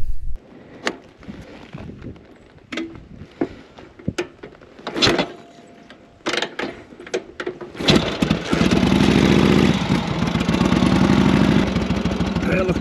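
A 1942 Harley-Davidson WLA motorcycle: several clunks and kicks, then the engine catches and settles into a loud, steady, close idle with a rough throbbing rumble.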